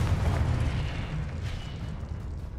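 Blasting spell explosion in the game Hogwarts Legacy, a loud low boom with a rumbling tail that stays heavy and sustained before slowly easing.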